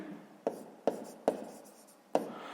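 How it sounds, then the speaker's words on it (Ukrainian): Pen on paper during a sixth-grade maths exercise, with four distinct strokes at a steady pace, close and fairly quiet. "Ну і записуємо."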